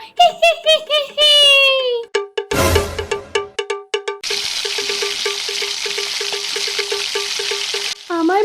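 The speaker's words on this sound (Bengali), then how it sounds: "আমার মাছগুলো সব ভাজা হয়ে গিয়েছে" Cartoon fish frying in a pan, a steady broadband sizzle running several seconds after a child-like voice giggles and a few sharp knocking hits, ending with a short chirp of voice.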